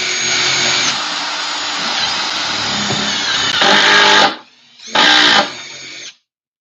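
A power drill runs loudly and continuously for about four seconds with a rising whine, then stops briefly and makes one more short burst before cutting off, close by with no voices.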